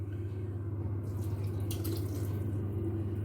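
Water is poured into lumpy coffee cake batter, making a steady close trickle and splash that runs unbroken throughout.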